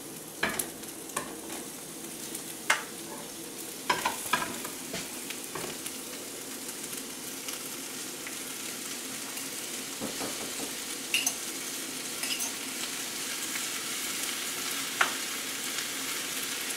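Mushrooms sizzling and simmering in a pan, a constant frying hiss broken by frequent clinks and taps of a utensil against the pan, with no speech over it.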